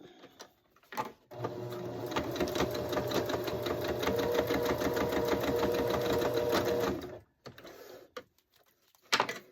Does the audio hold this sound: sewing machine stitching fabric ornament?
yes